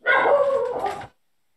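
A single high, whining dog yelp, a little over a second long and loud and close, cuts off abruptly into silence, heard during a Dungeons & Dragons tabletop game featuring magical dog constructs.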